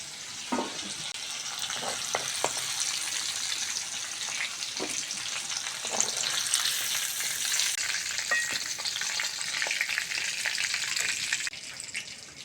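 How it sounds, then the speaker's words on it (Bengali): Cauliflower pieces deep-frying in hot oil for a cauliflower curry, a steady, dense sizzle that runs the whole time with a few faint clinks and pops on top. "ফুলকপিগুলো ভালো করে ভেজে নিয়েছি, তুলে নেব।"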